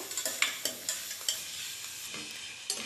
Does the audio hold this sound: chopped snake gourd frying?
yes